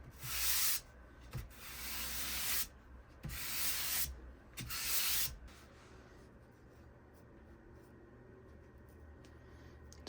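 Sandpaper is rubbed over the wood of a scarf joint jig for angled guitar headstocks, with four quiet, close hand strokes in an even back-and-forth rhythm before the room falls still.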